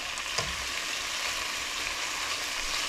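Chopped onions sizzle in a hot pan for a philly cheesesteak crescent roll filling, giving a steady close crackling hiss with a faint clink near the start and no talking.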